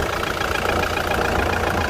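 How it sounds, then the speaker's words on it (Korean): A Kia Grand Carnival diesel minivan with about 150,000 km on it, a DPF exhaust filter and a slight oil seep, idles steadily, giving a continuous close engine rumble with no talk. "15만 킬로대 주행한 그랜드 카니발 엔진입니다"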